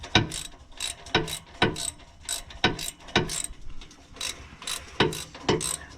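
Ratchet wrench clicking as it loosens long exhaust bolts on a 2013 V6 Mustang during a Corsa Sport exhaust install, repeated bursts of rapid pawl clicks close up, no talking.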